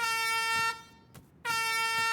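An air horn blasts loud and steady twice at the start of an obstacle course for beauty queens competing on Wipeout USA, with a short gap between the two long honks.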